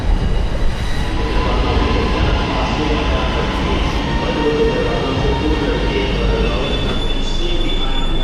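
The continuous rumble and rattle of a moving train heard from inside, steady and close, with faint wheel squeals.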